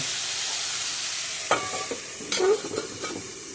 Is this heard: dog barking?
no